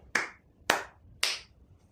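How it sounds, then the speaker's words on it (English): Three slow, deliberate hand claps ring out alone, spaced about half a second apart, each sharp and close with a short decay into quiet. "Norma gave a slow clap"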